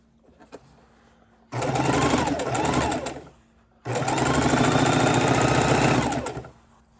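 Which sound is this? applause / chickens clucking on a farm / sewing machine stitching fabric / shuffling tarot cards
sewing machine stitching fabric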